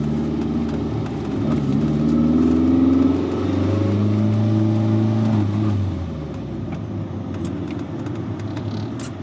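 A 1983 VW Rabbit GTI pulls onto a major street, its engine revving up steadily and then easing off as the car settles into cruising, heard from inside the car without talk.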